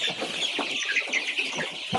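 Month-old chicks chirp and cluck steadily in a busy, overlapping chorus, close by and fairly loud throughout.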